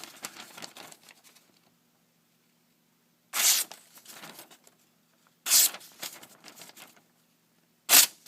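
A thin, freshly sharpened Benchmade 710 knife slices through soggy paper in three short, crisp bursts spaced a couple of seconds apart, close up, with faint rustling of the paper between cuts.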